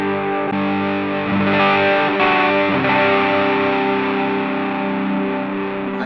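Electric guitar played through a Mooer GE150 multi-effects pedal with a distorted lead tone, sustained loud chords and notes ringing steadily and close throughout, with no voices.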